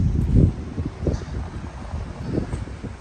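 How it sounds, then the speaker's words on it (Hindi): Wind gusts across the microphone outdoors on the old streets of Rabat, Malta, a steady low rumbling buffet that swells and eases, with no voices. "लेकिन यहाँ पे अच्छी बात ये साथ साथ हवा चल रही है।"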